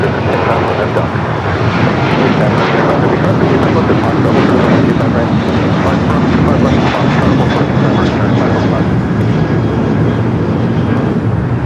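An airliner takes off from runway 25 right at LAX, its engines roaring loud and continuous as a broad, sustained rumble throughout.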